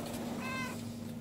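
A single short meow from a cat, close and clear, over a steady low hum.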